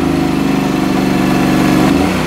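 A Digger King T30 mini loader's engine runs loud and close at high revs, a steady rhythmic diesel thrum that shifts pitch slightly near the end.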